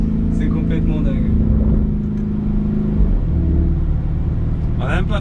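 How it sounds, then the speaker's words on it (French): A Lamborghini Urus drives through Cannes with a steady low engine rumble and road hum, while people talk inside the cabin throughout. "Rouler à 19 ans en Urus à Cannes"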